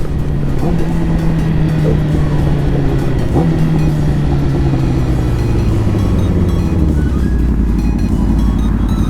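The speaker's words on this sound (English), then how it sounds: "Oh dude, his bike sounds so good." A loud motorcycle engine drones steadily up close, its pitch sliding gradually with a brief blip of revving midway, continuous throughout.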